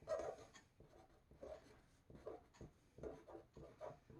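Pencil scratching on paper while the date is written, a faint, close scraping in short strokes with brief pauses between them.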